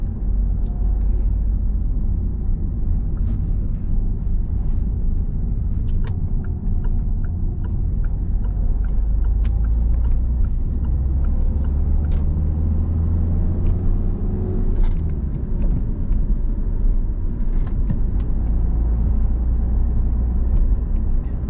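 A car in a driving lesson pulls away after shifting into second gear: a steady low engine rumble fills the cabin, with faint intermittent ticking over it and no talking.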